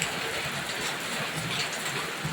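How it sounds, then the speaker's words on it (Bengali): Heavy rain pours down in a dense, even roar of drops that stays steady and close for the whole stretch with no pauses. "খুব জোরে বৃষ্টি হচ্ছে বন্ধুরা, খুব জোরে বৃষ্টি হচ্ছে।"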